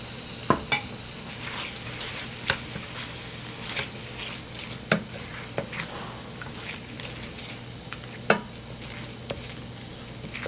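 Canned tomatoes are stirred into a simmering ground beef spaghetti sauce with a soft continuous bubbling sizzle, punctuated by repeated sharp clicks and taps of a utensil against the pot.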